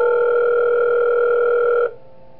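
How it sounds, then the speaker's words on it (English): A steady telephone tone from the phone call in the Five Nights at Wario's horror video game, a loud continuous electronic hum that holds evenly for nearly two seconds and then cuts off abruptly, leaving quiet background. "I gotta listen to the phone call again to see how to deal with Waluigi."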